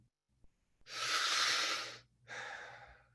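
A deep breath during a group breathing exercise: one long, loud airy inhale lasting about a second, a brief pause, then a shorter breathy exhale, heard close and alone.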